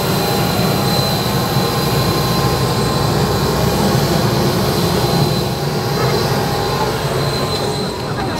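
A steady, loud aircraft engine drones on the tarmac at Malé Velana International Airport before a one-hour scenic flight in the Maldives, with a constant whine and rumble throughout.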